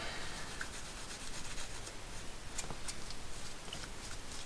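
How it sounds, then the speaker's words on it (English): Cloth rubbing release agent over a casting mould, a soft continuous scuffing and brushing close by with faint ticks, steady and quiet throughout. "I'm just going to put a little bit on a cloth and give it a rub over everywhere"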